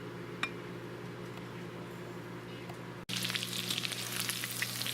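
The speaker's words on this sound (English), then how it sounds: "we're gonna fry them up until they're all nice and crispy and brown." Loud, steady sizzling of pork pieces frying in a wok, with a brief clink early on and the hiss surging brighter about halfway through.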